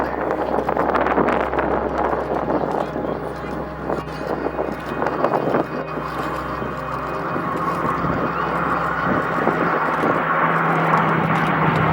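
A Spitfire's engine roars steadily at an airshow aerobatic display at Cosford, a loud sustained drone mixed with wind noise, with a commentator talking over it throughout.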